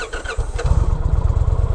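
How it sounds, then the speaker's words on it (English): An Indian Challenger motorcycle with a tired battery cranks and catches, settling into a loud, close, throbbing low idle with a steady pulsing rhythm. "let's see if the bike wants to start"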